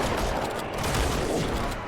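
Rapid weapon fire in Halo 2 Anniversary, a short continuous burst of shots at moderate loudness with no speech over it.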